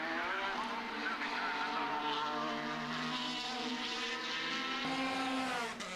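Formula BOSS Ireland racing cars, including a Lola, a Gould and a record-breaking F3, scream past at full throttle, a loud sustained high-revving engine note that holds and then shifts as they pass.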